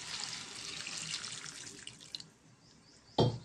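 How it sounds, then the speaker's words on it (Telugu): Water pours into a spiced curry in a cooking pan, making a steady splashing hiss for about two seconds before fading, followed by a single short clunk near the end. "దీంట్లో కొంచెం వాటర్ వేసుకున్నామండి."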